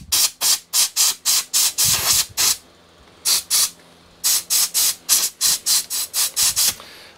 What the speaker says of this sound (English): I'm just now going to get my air compressor